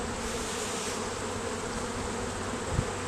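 Honeybees buzz steadily around a hive frame during a late-season colony inspection, a dense close drone with no voices and one soft thump near the end.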